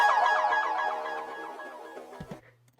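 Accent sample: a bright, ringing synthetic tone with a short pitched attack that decays steadily over about two seconds, then a small low blip at the tail, alone and moderately quiet.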